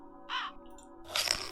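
Crows caw in the dark fantasy game Tormentum: Dark Sorrow, two harsh calls a second apart, the later one louder and more ragged, over a low steady ambient drone with no talking.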